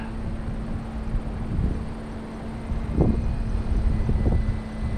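Electric RC plane, an E-flite Carbon-Z Cub SS with a 2.1 m wingspan, flying overhead; a steady motor drone with a faint tone sits under wind rumble and rises briefly a few times.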